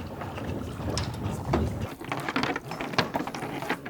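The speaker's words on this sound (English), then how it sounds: "We're pulling the traps under sail today." Prawn traps are hauled aboard a traditional sailboat under sail, with a ratcheting winch or pulley clicking in irregular bursts over wind and water noise, close and fairly loud, without talk.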